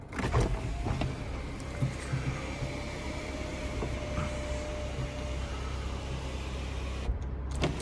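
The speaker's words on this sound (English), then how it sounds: "Huge sunroof." Electric sunroof opening on a 2020 Kia Sorento GT Line turbo diesel, a steady whirring motor hum heard close inside the cabin, running for about seven seconds before it stops, with no talk.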